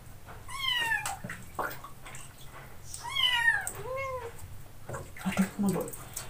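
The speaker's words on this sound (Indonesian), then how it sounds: "Jadi hari ini aku mau mandiin kucing-kucing aku." Kittens meowing while being bathed in warm water: several high, insistent, wavering meows in quick bursts, close and fairly loud, with faint splashing and handling sounds between cries.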